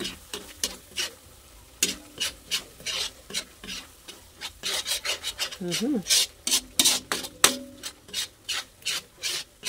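Spices such as paprika and cinnamon are stirred into butter shrimp in a sizzling pan, with repeated close scraping strokes in a steady back-and-forth rhythm over the frying hiss.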